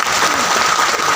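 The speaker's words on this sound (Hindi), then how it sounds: "उनके लिए भी एक कस के ताली लगाएं।" Sustained applause from the audience at a political rally of farmers and labourers in a decorated pandal: dense, steady clapping that fills the moment, loud and continuous with no talk over it.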